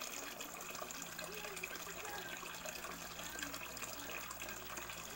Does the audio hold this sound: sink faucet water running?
yes